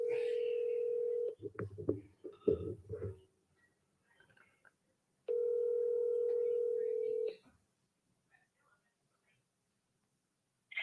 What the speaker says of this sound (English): This is like my third time trying to call these people.